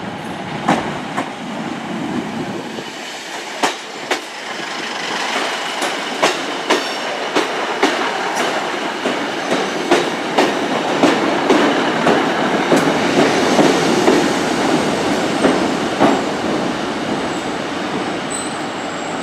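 A Great Western Railway class 150 three-car train pulls into Exeter St David's station, with a rhythmic clickety-clack of wheels over rail joints and a rising engine drone as it draws near, loud and close.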